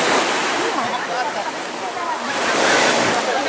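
Surf washes onto a beach shore during an outdoor group outbound activity, a steady broadband roar of breaking waves that swells and recedes, with faint voices mixed into the wash.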